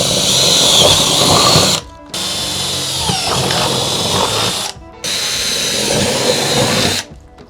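A power drill bores holes into a 5x8 cargo trailer being converted into a camper. Three loud, close whining bursts are separated by short pauses, with a grinding, rattling edge as the bit cuts through.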